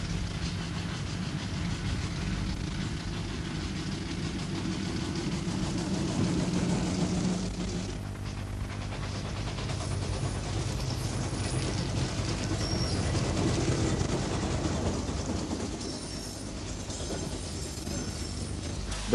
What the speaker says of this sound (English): The popular Austerity saddle tanks continued in production until 1953.